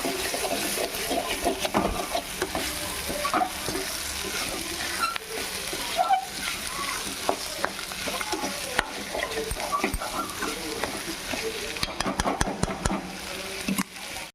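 Tomato and boiled potato pieces being stirred into egg kurma in a pan, a soft sizzle with scattered scraping and clinking from the spoon, close and moderately quiet, a few faint voices in the background.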